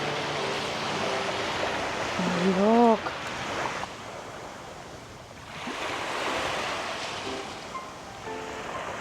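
Sea waves washing onto the shore during a day tour in Romblon, Philippines, a steady broad surge that swells and recedes twice, with someone briefly speaking over it near the start.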